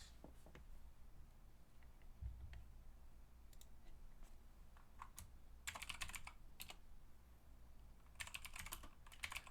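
Quiet computer keyboard typing in intermittent bursts of light clicks, sparse at first and then in denser flurries, close by against a soft room hiss.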